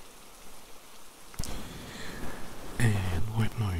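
Steady rain patters in the background, with a sharp knock and then a voice joining in over the rainfall.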